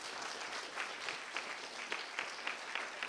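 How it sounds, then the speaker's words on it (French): Audience at a university institute (IUT de Troyes) student testimonial event applauds steadily, a dense wash of many hands clapping with a few louder bursts, continuous across the moment with no talk. "Merci beaucoup, on peut les applaudir très fort,"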